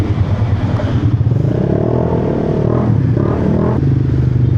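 A Grab delivery rider's motorcycle engine runs close by with a rough, throaty drone and brief revs, joined by some clattering and scraping.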